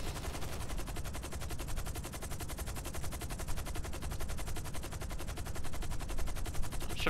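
Rapid video game gunfire, a dense continuous burst of evenly spaced shots like a machine gun, steady and fairly loud throughout with no talking.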